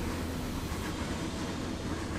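A train rolls into a station in the Train Fever simulation game, with Lötschberg railway carriages mentioned. It gives a steady, full rumble of rolling stock throughout, with no talking.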